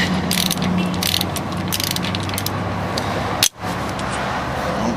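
A ratchet wrench turning a nut off a kingpin on a 1926-1934 vehicle, a steady rapid clicking close up, continuous and loud, with one brief pause near the end.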